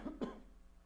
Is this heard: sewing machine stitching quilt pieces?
no